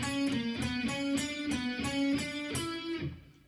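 An electric guitar plays an intro riff of repeated, evenly picked notes in a steady rhythm, ringing clearly on its own before the last note fades.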